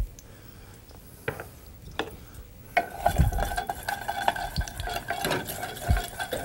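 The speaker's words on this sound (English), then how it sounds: "let's fry up our mustard seeds" Mustard seeds frying in ghee in a pan, a low sizzle joined by intermittent clinks and scraping stirs of a utensil against the pan, close and without talk.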